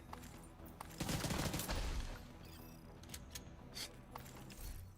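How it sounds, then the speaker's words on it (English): Flashbang grenades and gunfire in a player-versus-environment video game, a burst of loud bangs crackling with a wide noisy blast, followed by scattered sharper shots at moderate distance. "Yeah, it's flashbangs"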